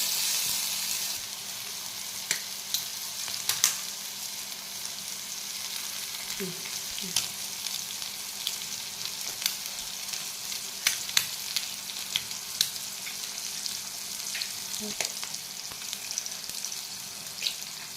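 Eggs cracked over onion and tomato frying in a pan for egg bhurji, with a steady soft sizzle and scattered stirring clicks throughout, moderately quiet and close, no talking.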